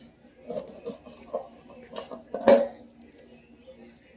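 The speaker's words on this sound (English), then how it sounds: "So let me get the knife." A kitchen knife clinks against dishes and a cutting surface while lemons are prepared, several light metallic taps and one sharp clatter in the middle, close and clear.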